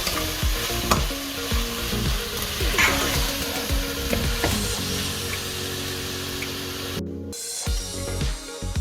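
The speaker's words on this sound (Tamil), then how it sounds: "உருளைக்கிழங்கு, பீன்ஸ் எல்லாம் 1 நிமிஷம் நல்லா வதக்கி வச்சுக்கலாம்." Diced potatoes and beans sauté in a hot pan for a vegetable biryani, with a steady close sizzle, repeated scraping stirs and a short quieter gap before the hiss resumes.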